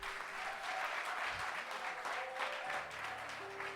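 A church congregation claps together in sustained applause, a dense, even wash of hands that holds steady throughout at moderate loudness.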